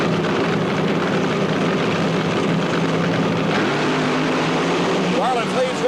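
Big Daddy Don Garlits' dragster runs the Ontario quarter mile at a 1979 drag race, a loud continuous engine roar under a commentator's talk, with tire screech rising near the end.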